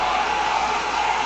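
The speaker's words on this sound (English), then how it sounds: "hopefully you can hear me over this hairdryer" A hair dryer blows with a steady, even whooshing roar, close and continuous throughout.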